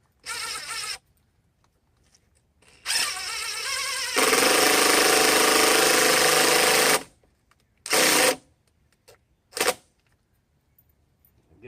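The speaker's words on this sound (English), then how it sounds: "I'm using a 3-inch star bit screw, a decking screw." Cordless drill driving 3-inch star-bit decking screws into wood for a no-dig garden border, with a short burst, a long sustained whir of several seconds, then two quick final bursts, close and loud with no talking.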